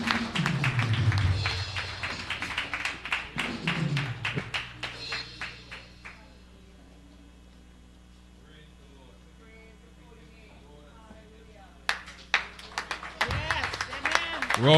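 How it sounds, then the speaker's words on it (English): A church congregation gives a round of applause in welcome during a Sunday morning service, clapping loudly at the start and again at the end with a quieter stretch between, mixed with voices and background hum. "Round of applause, a greater welcome this morning."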